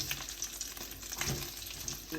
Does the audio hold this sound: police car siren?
no